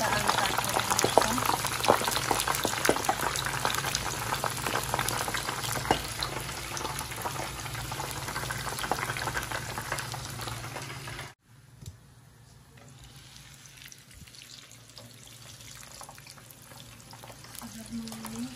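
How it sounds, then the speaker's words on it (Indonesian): Eggplant fries in hot oil, a loud, dense bubbling sizzle that fills the first part and then drops to a quieter, steady crackle, with some talk in the background. "kita goreng terong dahulu."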